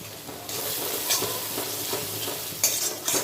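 Chicken chaap masala with Kashmiri chilli powder frying in oil, a loud steady sizzle broken by rhythmic stirring scrapes and a few brighter bursts near the end, close up and without speech.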